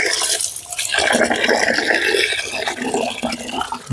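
Wheat grains are swished and rinsed in water, making a continuous sloshing, splashing rush of liquid with gritty movement, close and fairly loud, with no talking.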